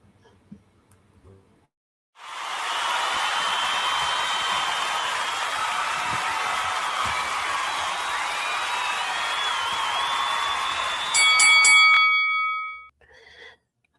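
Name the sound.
bell ringing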